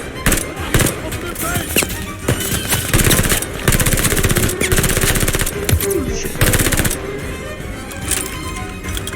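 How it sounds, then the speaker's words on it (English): A PPSh submachine gun fires rapid bursts in the Call of Duty Vanguard Stalingrad mission, loud and close, with chattering volleys separated by short pauses amid other battle noise. "this PPSH could put out a lot of rounds really quickly"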